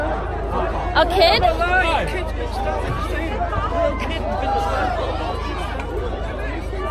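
A crowd of protesters at a street riot fills the air with close, dense chatter and overlapping shouting voices, a continuous babble with a few louder calls rising above it.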